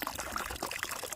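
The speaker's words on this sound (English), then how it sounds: "you can see it's pumping out a little bit, flowing into the pond" Water discharged from a windmill-driven pump pours and trickles into a farm pond, a steady splashing flow heard close by.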